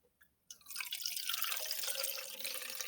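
Water poured into a cup holding a sweet potato, a steady splashing, trickling stream that starts abruptly after a brief quiet and continues close and fairly loud to the end.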